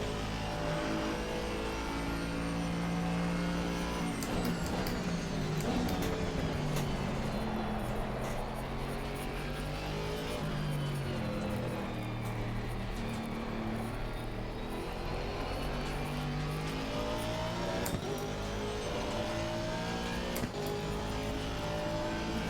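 Aston Martin V8 race car engine in Assetto Corsa Competizione, roaring continuously through a lap, revs rising and falling with gear shifts, loud and close throughout.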